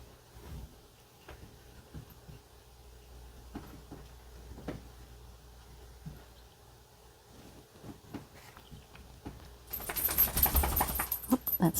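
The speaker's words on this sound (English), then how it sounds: "Oh, that's my dog Raven shaking." A dog shakes itself indoors, a burst of rapid flapping and rattling that swells near the end after quiet scattered taps and movement.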